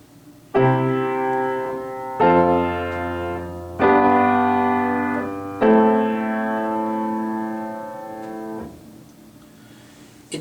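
Four sustained chords, apparently on piano, played one after another in a tonic–predominant–dominant–tonic style progression that ends on a 6 chord in place of the final tonic, each struck clearly and left ringing, with the last chord held longest.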